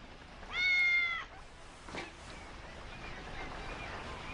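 A cat meows once, loud and close, in a scene from an animated Grimm fairy-tale series, the cry drawn out for nearly a second before fading into quiet background noise.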